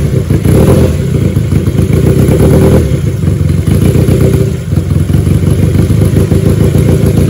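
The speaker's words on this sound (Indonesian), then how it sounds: "Gua coba geber ya bagaimana suaranya nih." A Jupiter Z fitted with a 250cc two-cylinder, eight-valve engine revs loudly and close, its throttle blipped in repeated bursts over a rough, clattering idle near a house.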